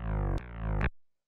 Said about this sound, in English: So then the second main bass layer sounds like this.